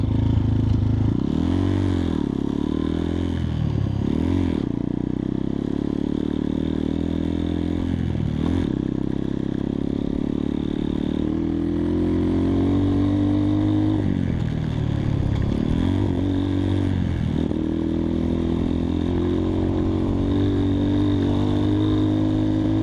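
A 2021 X-Pro Titan 250cc dirt bike is ridden with its engine note rising and falling continuously as it revs through gears on a straightaway, loud and close throughout with some clatter and no talking.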